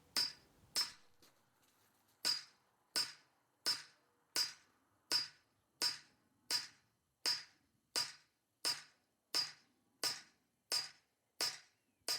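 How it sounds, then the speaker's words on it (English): A steady series of sharp metallic hammer blows on an axe head seated in a chisel groove in wet wood, about fifteen evenly spaced strikes, close and loud with no talking. "The axe locates in the chisel groove, and then we can belt the axe with the hammer."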